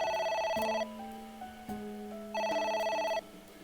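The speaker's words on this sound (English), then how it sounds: "A phone." A telephone rings in the video game AI: The Somnium Files, two bursts of trilling electronic ringing separated by a softer tonal pause, loud and close with no talking.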